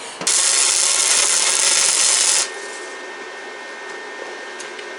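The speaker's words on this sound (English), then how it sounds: "I'm going to go ahead and grind down this side and grind down this side really good." An angle grinder works loudly and up close on a steel tie rod held in a vise. It makes a steady, harsh roar for about two seconds, then cuts off and leaves a quieter hum.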